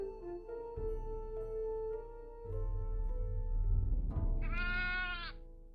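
A sheep bleats in the Dwarf Fortress video game, one wavering, vibrato bleat near the end over a steady game backdrop of sustained tones and low rumble, clear and fairly loud with no talk.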